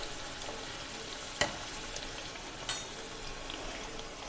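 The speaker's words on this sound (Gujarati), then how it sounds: "આ પૂરીને આપણે ગોલ્ડન થાય ત્યાં સુધી તળીશું." Methi farsi puri fries in hot oil with a soft, continuous close sizzle and a couple of brief pops or stirring taps, with no talk.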